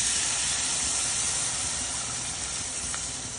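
Flour frying in melted butter in a pan gives a steady, even sizzle and hiss that continues for a few seconds, close and moderately loud with no talking.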